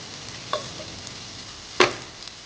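Beef browning in a pan for bopis, a soft steady sizzle broken by two sharp clanks of a spatula or spoon against the pan, the second one louder, with no voices.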